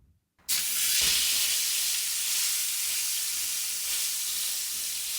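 Beef rib steak dropped into a hot oiled pan, a sharp onset of loud, steady hissing sizzle that continues close and unbroken after a brief quiet moment.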